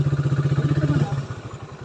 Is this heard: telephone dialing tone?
no